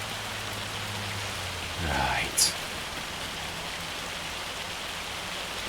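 Steady rain falls across a Farming Simulator 25 field as an even, constant wash, with a brief voice and a short tone cutting in partway through.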